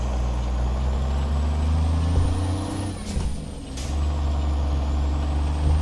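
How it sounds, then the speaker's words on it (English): A dump truck's diesel engine in American Truck Simulator drones low and loud as the driver double clutches on a quarry hill, the tone dipping briefly through the shift with a hiss, then settling back to a steady rumble. "So we're double clutching now."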